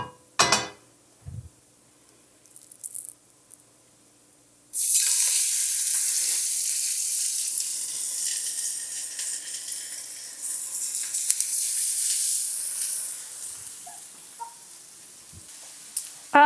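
Thin fish fillets go into a hot pan while poached fish in white wine sauce is being prepared, bringing a sudden steady sizzle and frying hiss after a few soft clinks, continuing with faint utensil taps.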